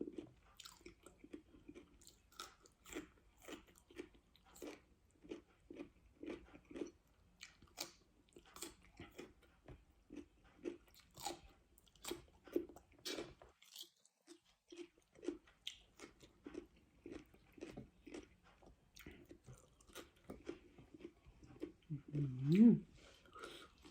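Vegetables dipped in spicy chili paste are chewed close up, a long run of irregular crunching bites and soft squishy mouth sounds, quiet and intimate, with a brief murmur near the end.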